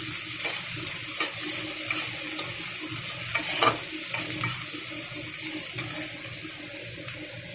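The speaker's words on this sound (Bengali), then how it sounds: "দিয়ে দিলাম টমেটো আর পেঁয়াজ। খুব বেশি আমি ভাজবো না, হালকা করে নাড়াচাড়া করে" Tomatoes and onions are lightly fried and stirred in a pan for a lau shak chachchari with lote fish: a steady close sizzle with scattered clinks and scrapes of the spatula, no talking.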